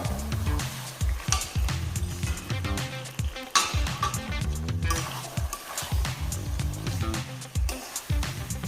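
Marinated chicken being stirred into melted tomato in a pot while making a Kolkata-style chicken curry, with steady sizzling, scraping and clattering throughout, under a low droning background.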